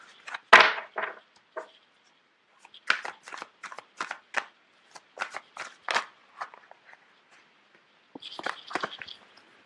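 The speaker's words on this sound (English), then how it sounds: "You have a lot of cards that are just popping out all over the place." Tarot cards being shuffled by hand, a strong riffle at the start and then repeated dry slaps and flicks as stray cards pop loose, with a final burst of shuffling near the end, close and clear with no talking.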